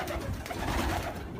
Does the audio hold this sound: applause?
no